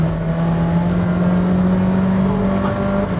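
A Honda Vezel Hybrid accelerates in sport mode, its engine droning steadily with a rising tone and road noise heard from inside the cabin, with no talking.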